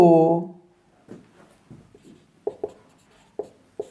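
Pen or chalk writing out the working of a Class 11 straight-line geometry problem, heard as soft scratchy strokes with a few sharper taps after a short voiced sound at the start.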